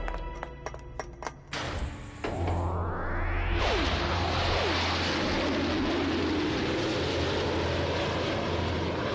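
Cartoon airplanes take off after a few quick taps, engines starting with a sudden roar and rising whine that builds into a loud, sustained propeller drone.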